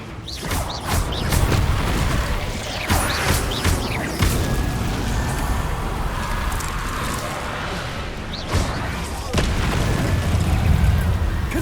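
Explosive spells cast in Hogwarts Legacy burst out as repeated booms and crackling blasts amid continuous combat noise, loud and close, with a voice shouting between them.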